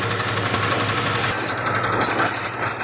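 A coin-operated pressure washer sprays a motorcycle, producing a loud, close, steady hiss with a pump droning underneath.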